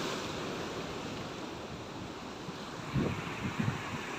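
Sea waves roll and crash against the Poompuhar beach bridge in a steady wash of surf mixed with wind noise, with a few heavier impacts toward the end.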